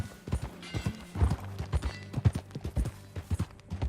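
Horse hooves clip-clop in a steady, even rhythm in the video game Red Dead Redemption 2, close and distinct with a faint low tone underneath.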